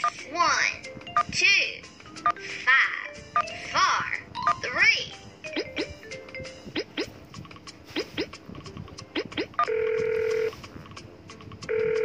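A phone number is dialed in the Baby Panda kids' safety game, with short electronic keypad beeps and a longer steady dial tone mixed among cheerful game sounds and voices talking, including a child's.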